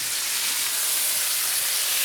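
Beef pieces for a braised ragu searing in a hot pan just after being flipped, giving a loud, steady, close hiss and sizzle with no voices.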